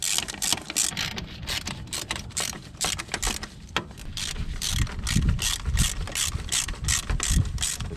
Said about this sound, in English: I'm gonna go ahead and get these 3 mounting bolts torqued back down.